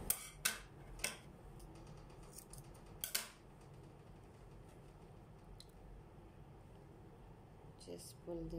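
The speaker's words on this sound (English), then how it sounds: "the excess yarns we can snip off here" Scissors snip excess yarn off a crocheted baby blanket, giving several sharp close snips in quick succession at the start and another around the middle, with quiet room tone between them.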